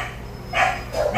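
A dog at a humane society shelter gives two loud, close barks in quick succession over a steady kennel hum, with no talking.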